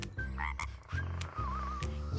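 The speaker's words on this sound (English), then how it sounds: "Look at this frog!" A frog croaks in several loud, buzzy bursts close by, with short gaps between them and no voices over it.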